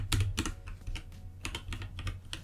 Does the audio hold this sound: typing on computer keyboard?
yes